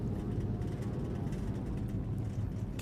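A de Havilland Beaver's propeller engine drones steadily at throttle on a bush airstrip in X-Plane, a continuous low, even hum that stays faint and unbroken throughout.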